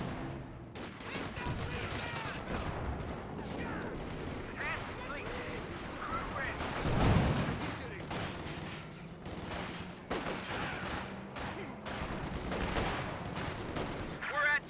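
Dense rifle and machine-gun fire from a Company of Heroes 2 infantry battle, with rapid overlapping shots and bursts that continue throughout, plus occasional heavier blasts, under an ongoing commentary voice.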